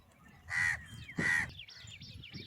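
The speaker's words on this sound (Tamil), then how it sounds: "10 காக்கா இருக்குதாப்பா." Two loud, harsh caws from about ten crows ring out close by, followed by fainter bird calls in the background.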